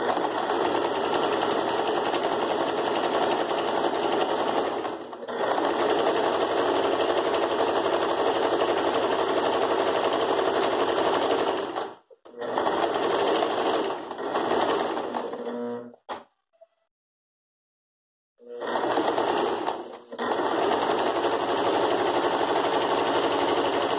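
Sewing machine running a zigzag stitch on fabric for a floral rug, close and loud with a steady mechanical buzz, stopping briefly several times and falling fully silent for a couple of seconds before resuming.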